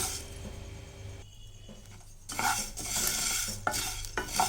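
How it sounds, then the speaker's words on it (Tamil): Coriander seeds dry-roast in a hot pan for rasam powder as a spoon stirs them, making scraping, rattling strokes. The sound drops briefly, then returns louder with a brighter crackle, and no one speaks. "இப்போ இதை வந்து நல்லா இப்படி வறுத்துக்கலாம்"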